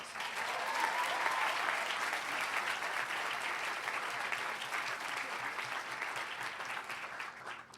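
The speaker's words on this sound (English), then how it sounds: "Give yourselves a huge round of applause" Graduates at a university school recognition ceremony give themselves a sustained round of applause, a steady, even roar of many hands clapping in a large space, heard alone and slowly tapering near the end.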